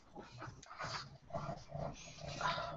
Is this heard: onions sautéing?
no